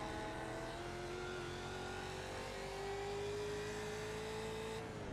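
A Mustang race car in the iRacing sim at Sonoma holds a steady droning engine note with slowly rising pitch, close and continuous, with no voices over it.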